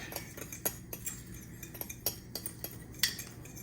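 Spoon clinking and scraping in a bowl while mixing sugar and cinnamon, a string of light, quick taps and scrapes close by, with no talking.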